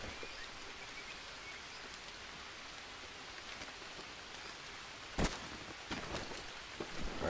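Steady rain falls across the jungle in the survival game Green Hell, a constant close hiss of drops on surfaces, broken near the end by a few sharper splashes and taps.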